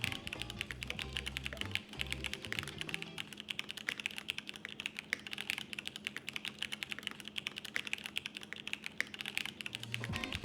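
Fast, steady typing on a QK101 mechanical keyboard with added case foam, dense muted clacks close to the microphone, rapid and continuous with no voices.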